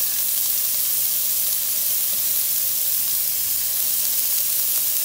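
Steady, even sizzling of onions sautéing in hot oil with salt in a pan, a continuous bright hiss without pauses or talk.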